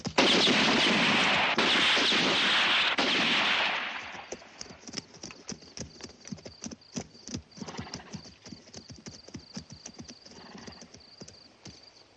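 A loud, dense burst of gunfire from a 1968 western roars for several seconds, then cuts away to the rhythmic clip-clop of horse hooves trotting off.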